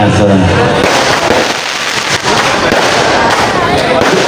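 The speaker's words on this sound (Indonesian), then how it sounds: "sambil melihat pesta Pesta kembang api" Fireworks burst over a night carnival in a village, a loud, dense wash of crackling and popping that fills the whole stretch without pause, with voices and crowd noise mixed underneath.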